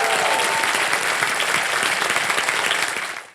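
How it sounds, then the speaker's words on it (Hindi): A studio audience on a television quiz show bursts into loud, dense applause that runs steadily and tapers off at the end. "तालियां बज जाए इनके लिए।"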